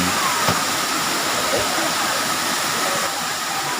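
Balagbag Falls waterfall, a steady, broad rushing roar of falling water that continues unbroken throughout.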